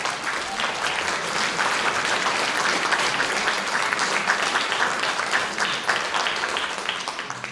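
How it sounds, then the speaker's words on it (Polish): Audience applause at a Lemko culture gathering in Gorzów Wielkopolski, a dense, even wash of many hands clapping, steady and moderately loud for several seconds before easing slightly at the end. "Wielkie brawa"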